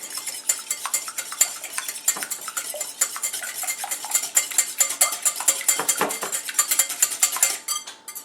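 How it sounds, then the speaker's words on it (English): Eggs being whisked together in a large bowl for zucchini bread: rapid, continuous metallic ticking of the whisk against the bowl, close and fairly loud, steady throughout with no talking. "Then beat them together, or whisk them as I'm doing."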